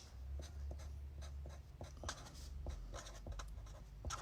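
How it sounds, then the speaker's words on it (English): A pen scratches across a blank sheet of paper in short, irregular strokes, close and quiet, with no talking. "I'm going to write"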